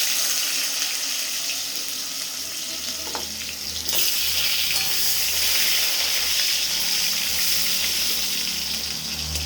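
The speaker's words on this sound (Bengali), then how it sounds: "আলুটা যেটা কেটে রেখেছিলাম সেটা ভাজবো" Cut potatoes frying in hot oil seasoned with two bay leaves and tempering spices for a cabbage curry, a steady broadband sizzle that swells louder midway and continues without talk.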